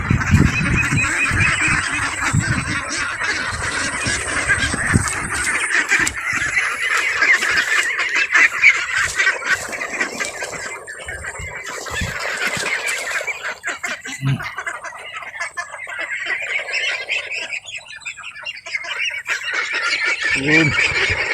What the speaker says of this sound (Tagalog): dumating na yung mga itik natin sa ating area